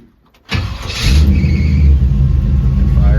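A 1953 Chevy 3100 pickup with air ride suspension cranks and catches, its engine settling into a loud, close, throaty rumble that swells as it revs, with no talking over it.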